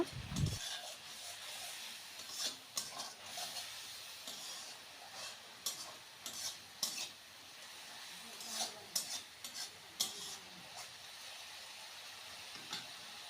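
Spice masala fries and gets stirred in a pan with a little water, giving a faint, soft sizzle broken by repeated scraping strokes and light clinks of the spoon against the pan.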